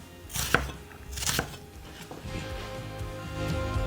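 A knife finely chops an onion for a New York deli chicken salad sandwich, two firm close cuts followed by softer scraping and light taps, with a steady low background hum.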